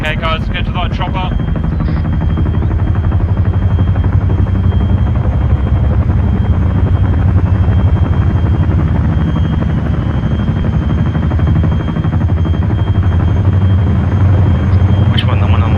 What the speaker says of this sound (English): let's get to that chopper